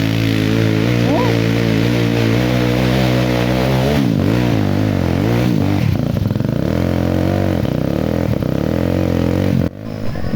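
A motorcycle climbs a steep uphill road, its engine revving hard and rising in pitch through the gears. The loud, close and continuous engine noise carries over people shouting and talking nearby.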